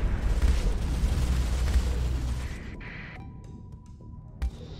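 A Shade ship blowing apart in a space battle in the game Starsector gives a long, rolling explosive rumble that fades into quieter electronic tones, followed by a short sharp pop.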